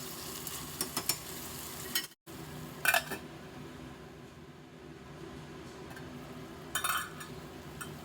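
Mutton and tomato pieces frying in a pan, a low steady sizzle with a few sharp clinks and scrapes of a spoon stirring against the metal.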